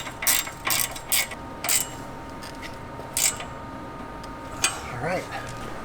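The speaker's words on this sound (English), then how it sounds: "I just have to go ahead and retighten up this clamp" A Jeep JL Wrangler tie rod clamp is retightened with a ratchet, short crisp clicking bursts repeating at a steady pace, close and moderately loud, followed by a pause and a brief voice.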